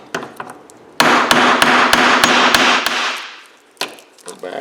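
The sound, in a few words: hammer striking chisel to break scrap metal loose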